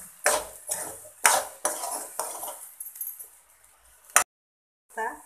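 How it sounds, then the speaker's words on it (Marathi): Utensil clinking and scraping against a pan while a mixture is stirred during cooking of an egg dish, several loud bursts of metallic clatter in quick succession, then a pause and a final brief scrape. "छान मिक्स करून घेऊया."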